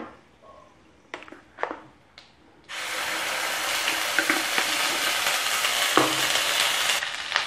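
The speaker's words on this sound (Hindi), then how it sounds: "अब हम इसमें डालेंगे प्याज और टमाटर का पेस्ट।" Onion and tomato paste hitting hot oil with asafoetida, red chilli powder and turmeric for kadai paneer, a few soft clinks first, then a loud, steady sizzle that swells and holds to the end.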